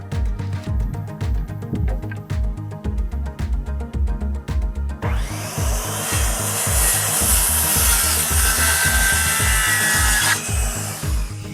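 A power saw cuts through a wooden wall stud during barn wall construction. A steady, loud, harsh whine runs for about five seconds alone, following a stretch of rhythmic thumping.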